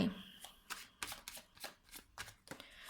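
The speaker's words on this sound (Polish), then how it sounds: "Potasujemy karty" Tarot cards shuffled by hand in a quick series of papery riffles and slaps, close and fairly loud, with no talking.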